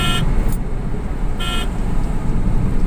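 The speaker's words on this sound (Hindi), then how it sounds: "हॉर्न दिए" A car horn honks twice in short bursts over loud, rumbling road and engine noise while driving on the G T road, the second toot arriving about a second after the first.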